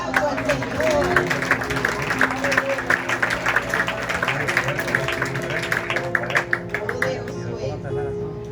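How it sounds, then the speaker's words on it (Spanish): A church congregation claps for the Lord in a dense, continuous round of applause lasting several seconds, with a voice talking over it and possible music in the background. "denle un aplauso al Señor"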